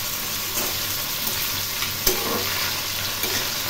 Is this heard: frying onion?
yes